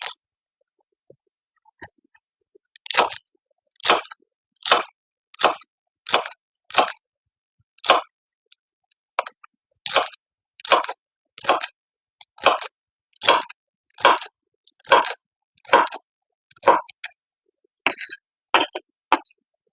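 Celery being chopped on a cutting board for chicken noodle soup, a steady run of crisp, evenly spaced knife chops close by, with a short pause partway through and no talking.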